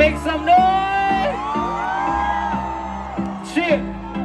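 A Diwali celebration crowd in Times Square roars back with whoops and shouts, a loud, sustained outdoor swell of many voices that rises again near the end, with amplified voices and music mixed in.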